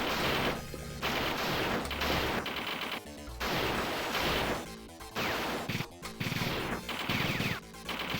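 Bombs exploding and blowing up jeeps in the 1990 Video System arcade game Spinal Breakers, a dense, loud barrage of game blasts and crashes with brief gaps, set against steady game audio.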